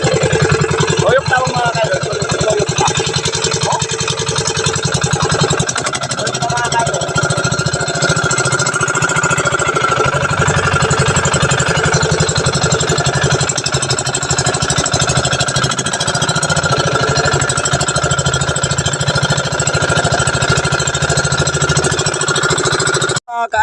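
A fishing boat engine runs continuously at sea, a loud, steady, close mechanical chugging with a knocking rhythm that holds unchanged throughout, with no talk over it.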